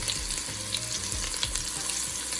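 Scallion and ginger sizzling in a hot pot for curry crab, a loud, steady crackling fry with small bursts of popping, no voices.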